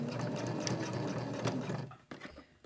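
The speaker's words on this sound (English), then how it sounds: "Needle down, and I'm going to stitch all the way across." A sewing machine stitching straight across fabric while making a pocket fidget, a steady close motor whir with rapid needle clatter that stops abruptly, followed by a few brief clicks and handling sounds.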